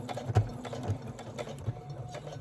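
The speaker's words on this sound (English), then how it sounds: "we're going to be sewing right along the edge of our binding, removing our clips as we go" A sewing machine stitches steadily along the edge of a self-binding baby quilt, its motor humming with a rapid mechanical rhythm and a couple of heavier thumps, close and clear with no talking.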